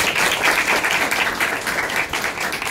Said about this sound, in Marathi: त्या मॅडमांसाठी सुद्धा जोरदार टाळ्या